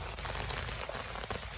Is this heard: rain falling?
yes